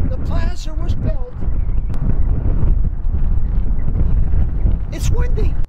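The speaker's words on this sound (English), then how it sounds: "It's windy." Outdoor wind buffets the microphone as a steady low rumble throughout, with people talking over it in a plaza setting.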